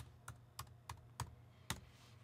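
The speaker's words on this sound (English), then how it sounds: "You could also just simply type in your IP address" Five evenly spaced, crisp key presses on a computer keyboard while an IP address is entered, quiet and close against a faint steady background hum.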